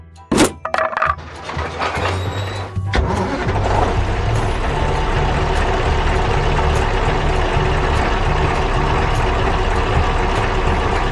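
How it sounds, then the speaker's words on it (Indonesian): A truck engine starts with a sharp clank and bang, then settles into a steady, continuous rumble as the truck gets moving, loud and close with no voices. "Truknya mulai melaju kencang."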